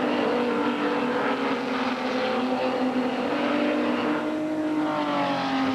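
Race cars in a 1995 Barber Dodge Pro Series race at Lime Rock roar past in a steady, loud wash of engine noise, with whining harmonic tones rising and shifting as cars pass.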